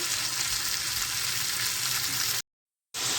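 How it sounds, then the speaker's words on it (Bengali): Spices frying in a pan, a dense, steady sizzle close up with faint stirring. It cuts out briefly to silence near the end, then resumes, with no voices. "একটু কষিয়ে তারপরে জল দিয়ে দিব একবারে।"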